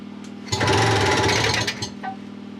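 A British Seagull two-stroke outboard engine bursts into a loud, rapid mechanical chatter for about a second, then cuts out with a brief sputter and a faint tick afterward.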